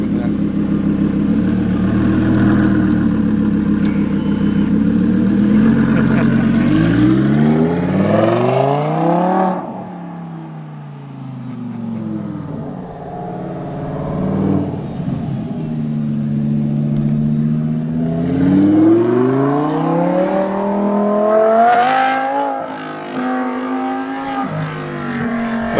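A Lamborghini engine revs hard from inside the car during a ride, rising and falling through several long sweeping pulls, loud and close, with a brief lull midway before climbing again.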